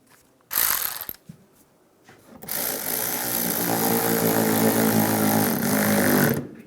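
A ratchet tightens the headlight mounting bolts on a 2007-2013 Chevrolet Silverado, starting with a quick burst of clicking and then settling into a long, steady run of close ratcheting with no talk.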